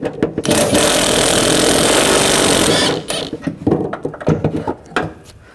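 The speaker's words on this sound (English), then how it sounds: "I'm going to take these other bolts out, use a 13mm socket." Power tool with a 13mm socket spins out strut bolts on a 2014-2020 Nissan Rogue, a loud continuous buzzing rattle for nearly three seconds, then stops into scattered clanks and handling noises close by.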